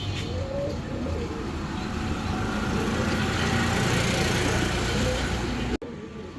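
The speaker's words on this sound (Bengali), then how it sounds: "কবুতরটা ভালো আছে।" Soft pigeon cooing sits under a dense, steady wash of bustle at a fancy pigeon bird market, with faint traffic noise in the background.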